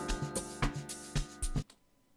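Synth chords strummed in FL Studio 20 ring out in a few quick, rolled attacks, clear and upfront, then fade to silence.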